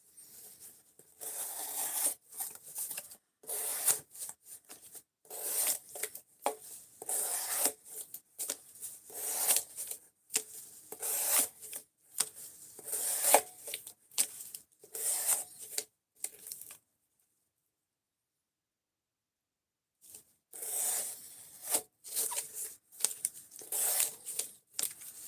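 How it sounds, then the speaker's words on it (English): A knife slicing repeatedly through cardboard during an edge retention test makes quick, close scraping and tearing strokes in an irregular rhythm, pausing for a few seconds before the cutting resumes. "We're looking to see how much cardboard we can cut up before the edge of this knife is completely wrecked."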